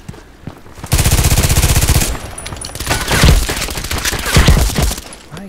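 Rapid single-shot gunfire from the online shooter Contract Wars, fired in quick succession as a near, loud rattling burst followed by more uneven, scattered shots.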